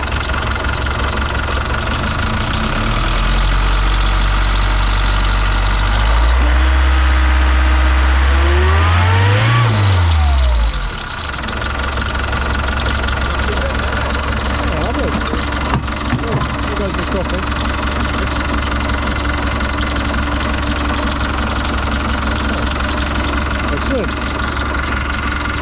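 A boat's inboard engine idles steadily and close with a low throbbing drone and the usual loose rattles, briefly revving up and dropping back around the middle, with a few faint knocks over the steady run.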